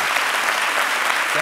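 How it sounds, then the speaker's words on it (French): Warm studio audience applauding for Zouglou on a French-language television talk show, a dense steady wash of clapping throughout with a hint of voice near the end. "Est-ce que je peux demander à ce chaleureux public-là d'applaudir pour le Zouglou?"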